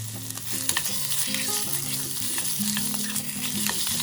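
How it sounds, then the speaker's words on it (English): Pork stir-frying in a tablespoon of oil in a pot for kimchi stew, a steady broadband sizzle with spatula scrapes and clacks against the pot recurring throughout, close and fairly loud with no talking. "Heat 1 tablespoon of oil in a tteokbagi or pot and stir-fry the pork"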